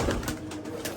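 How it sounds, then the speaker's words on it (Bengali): A female pigeon coos from a nest with chicks, a short soft throaty coo close by, alone without speech. "এইটা হচ্ছে মাদিটা, যেটা ডাক দিচ্ছে কাকা কবুতর।"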